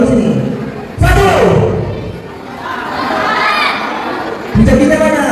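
Taekwondo students shout together during a belt grading exam, loud bursts from a crowd of young voices with a steady background of chatter between the shouts.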